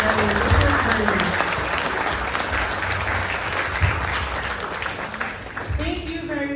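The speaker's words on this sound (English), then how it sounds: "Let us all give our Grade 10 completers a resounding round of applause" An audience at a school moving-up ceremony gives Grade 10 completers a loud, steady round of applause with dense clapping throughout, while a voice speaks over it.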